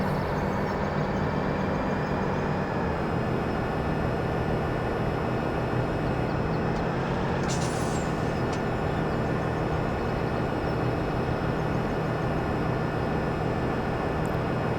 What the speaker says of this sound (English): It's time to put the train back to where I got it.